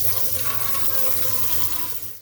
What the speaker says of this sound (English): Now we're going to flush the hot water.